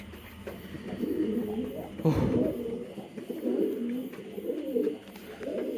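Soft, low pigeon coos repeat in murmuring phrases, fairly close, over a faint background hiss.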